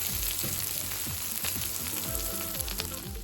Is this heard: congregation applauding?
no